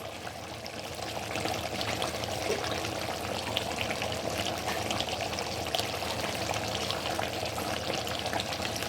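Water added to a simmering pot of Nigerian efo riro vegetable soup, a steady close pour and trickle over the sizzle and bubbling of the cooking pot, with no talking.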